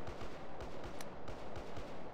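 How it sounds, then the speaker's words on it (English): Distant gunfire in the Los Angeles-style streets of GTA San Andreas, a faint rhythmic series of muffled shots repeating about every quarter second, with no talk over it. "I know I am in LA when I hear distant gunshots"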